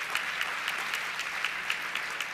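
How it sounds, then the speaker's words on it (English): A large room of roughly 1,300 people applauding at an awards ceremony: a dense, steady wash of clapping heard from a distance at moderate volume, with no talking over it. "give yourself a round of applause"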